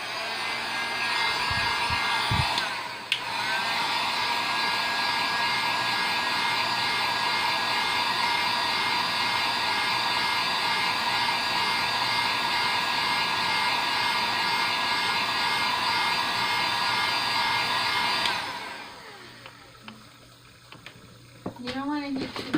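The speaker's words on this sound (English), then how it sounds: "I'm going to heat it up with my heat gun" A heat gun blows hot air to warm a cup used for mixing epoxy, a steady loud whooshing roar that holds for about fifteen seconds before it cuts off, leaving quieter handling noises.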